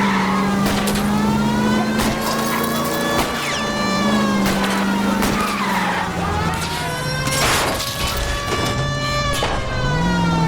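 Car tyres squeal and skid in an L.A. Noire video game car chase, a loud continuous screech with a steady engine drone beneath, the pitch sliding and wavering through a long slide.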